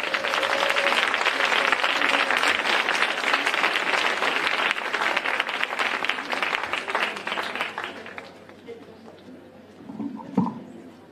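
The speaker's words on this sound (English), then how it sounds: "Let's give a round of applause." A crowd claps loudly and steadily, the applause thinning and fading over the last few seconds into scattered claps.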